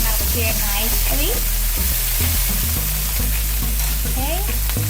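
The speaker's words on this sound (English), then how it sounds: "Frying up here nicely." Loud, continuous sizzling of onion and thyme frying in a pan for chicken chow mein, with occasional scraping and stirring clatter throughout.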